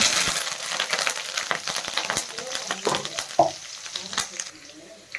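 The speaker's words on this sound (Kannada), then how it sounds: "ಈಗ ಹಸಿಮೆಣಸಿನ್ಕಾಯಿ ಫ್ರೈ ಆಗಿದೆ" Green chillies, curry leaves and cumin frying in oil, a busy crackling sizzle with sharp spattering pops and a few metallic clinks that gradually die down.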